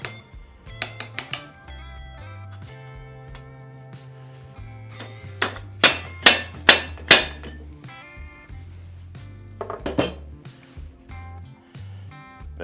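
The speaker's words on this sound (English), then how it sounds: "and hammer back on this nut" A nut being hammered back onto the wheel axle of a vintage 1962 Weber kettle grill: a quick run of sharp metallic blows, then a louder group of four or five ringing strikes and a final pair, close up against a low hum.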